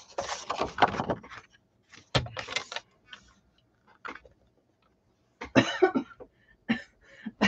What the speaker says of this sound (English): I just got a little cough right there.